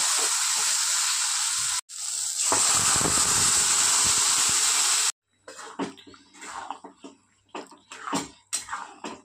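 Boiled tarka dal poured into hot masala that has been fried until the oil separated, for an egg tarka: a loud, steady hiss and sizzle for several seconds, then quieter scattered clatter and stirring.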